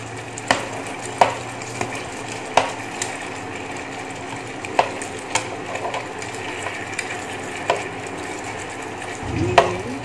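Rice cakes simmer in a Korean tteokbokki-style sauce with sausage, giving a soft, steady bubbling hiss broken by sharp clacks and scrapes of a utensil against the pan every second or so.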